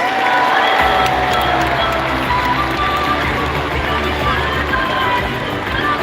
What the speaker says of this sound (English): there's nothing like the feeling of a huge CNE crowd cheering on the superdogs